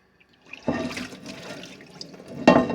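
Water from a sink tap splashes and runs steadily over a cast iron pan being cleaned, with a couple of sharper gushes near the start and end, close and fairly loud.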